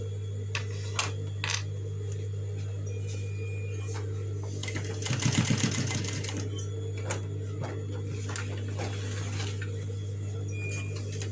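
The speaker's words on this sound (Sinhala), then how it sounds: "ඊට පස්සේ නැවත හරවලා අනිත් පැත්තට මහලා මේ පැත්තට මහනවා බෙල්ට් එක" A sewing machine stitching the belt of a lunch bag makes a brief burst of fast, close whirring around the middle, set against a steady electrical hum and scattered small clicks.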